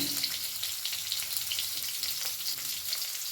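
Garlic, dried red chilli and onion sizzle steadily in the hot oil left from frying prawns, a dense, even crackle held close and continuous with no voices.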